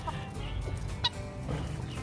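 An adult hen with curly toes on one foot clucks softly on a rainy day, a few short, close clucks over a low, steady background.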